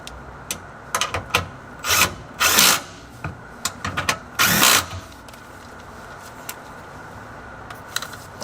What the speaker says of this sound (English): Start them by hand, and then we'll finish with the power tool here.